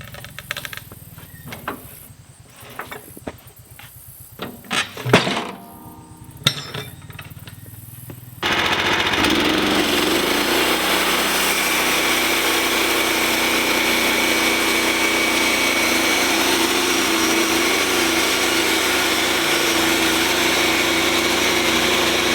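A milling machine cuts along one side of a board, starting with uneven clattering and bursts, then settling into a loud, continuous roaring drone that holds steady to the end.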